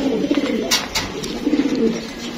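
A pair of old-breed Jabra blue-eye pigeons coo close by in soft, low, rolling phrases, with a few brief rustles in between.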